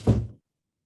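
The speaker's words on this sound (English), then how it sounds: "Close this door." A door thuds shut in a meeting room during a town finance committee session, a single short, fairly close thunk with a brief muffled tail, then silence.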